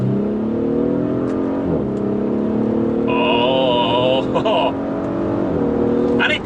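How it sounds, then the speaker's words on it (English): A 2017 Audi SQ5 with a 345PS V6 petrol engine pulls hard, its engine note climbing through rising gears with brief crackles at the shifts, loud and close inside the cabin, with a voice briefly speaking over it. "You can't have a fast Audi S car without the farty noise"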